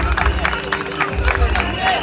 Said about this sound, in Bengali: জোরে হাততালি হওয়া উচিত সুকান্ত দার।